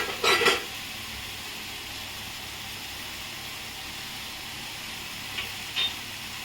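Cabbage and peas cooking in a pan over a medium gas flame, a steady, even sizzle and hiss with a couple of brief utensil scrapes at the start and near the end.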